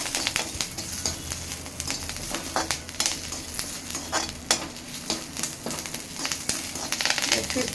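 Puffed rice is stirred in a pan with green chilies and curry leaves, giving a busy crackling sizzle and rapid scraping rustles, with a voice talking over the cooking.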